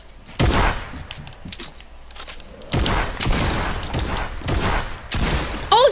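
Shotgun blasts in Fortnite: three or four loud, sharp shots at uneven intervals, each with a short tail. Quieter clicks and small impacts fall between them.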